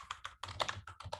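Keystrokes on a computer keyboard typed in quick uneven bursts, close and fairly quiet, with short pauses between clusters of clicks, during live web development work.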